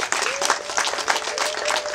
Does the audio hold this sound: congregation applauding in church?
yes